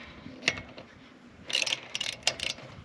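A hand ratchet tightens truck wheel bolts in a star pattern during a brake job, heard as one short burst of clicking followed by several close, loud bursts of ratcheting with brief pauses between them.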